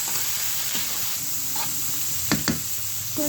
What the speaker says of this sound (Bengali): লুডুসগুলো নেড়ে দেবো।